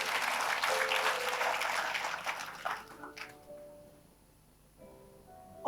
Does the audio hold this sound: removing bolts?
no